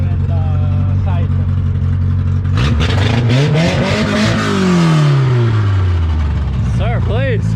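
An old-school JDM Toyota engine revs hard and loud nearby, climbing and falling in pitch over steady rumble, with people talking and exclaiming over it.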